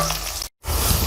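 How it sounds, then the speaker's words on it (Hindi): Onions fry in leftover oil in a kadai with a steady, close sizzling hiss, broken by a brief silent gap partway through. "ये ऑयल में हमारे प्याज फ्राई हो रहे हैं।"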